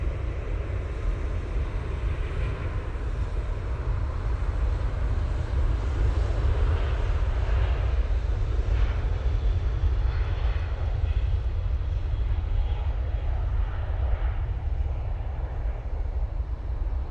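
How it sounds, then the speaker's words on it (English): An Emirates Airbus A380 roars at full takeoff power at Manchester Airport, a loud, sustained broadband engine rumble that holds steady throughout with no voices. "that was power for you there from the mighty Emirates A380"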